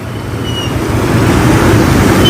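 Floodwater rushing through a street after heavy rain in Juazeiro do Norte, a loud, close, steady broadband roar of flowing water that builds slightly over the moment, with no voices.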